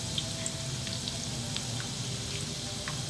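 Egg fingers fry in a pan over moderate heat, a steady soft sizzle and crackle with scattered small pops, continuous and close.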